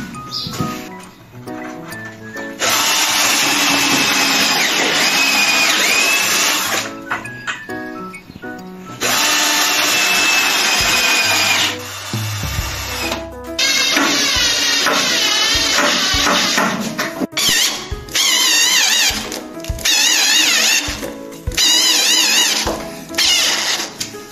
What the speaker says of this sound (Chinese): 我强烈要求把凳面4个角都拧上螺丝